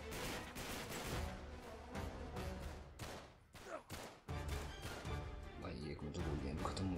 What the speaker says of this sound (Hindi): भाई एक में तो गोलियां खत्म हो गई, इतनी गोलियां चला दी मैंने।